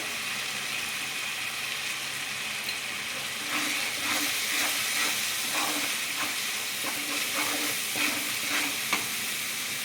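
Chicken masala frying in oil as coriander and turmeric powder go in, a constant hissing sizzle with soft rhythmic stirring strokes emerging partway through, steady and close, without speech.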